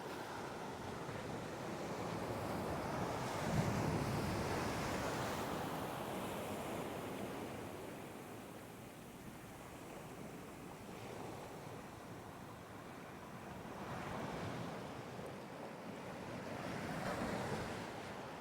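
Sea waves surge and crash against the shore at Kalmunai in a continuous roar that swells and ebbs, with wind rumbling across the microphone and no speech.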